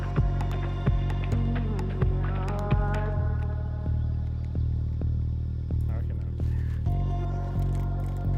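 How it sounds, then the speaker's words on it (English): An old electric trolling motor on a fishing boat gives off a low, steady hum with a regular throbbing pulse about every half second and a faint squeak, while someone talks nearby. "Yeah, the old electric's, she's a bit squeaky, eh?"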